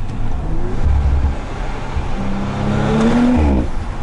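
Audi RS5 2018 engine pulling hard under heavy acceleration, a loud, steady rising drone with climbing revs and a second surge toward the end, no talking.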